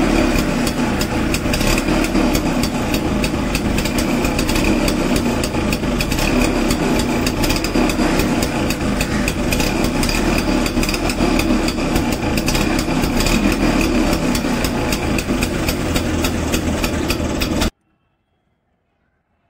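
A small toy scooter runs with a steady, buzzing motor drone, loud and constant for about eighteen seconds before cutting off abruptly into silence.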